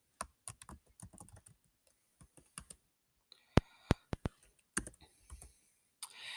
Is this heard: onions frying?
no